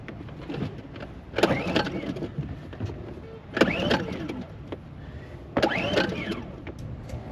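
A boat engine being started: three separate cranking attempts, each a short strained whirring burst with rising tone, spaced a couple of seconds apart over a low background rumble, close and moderately loud.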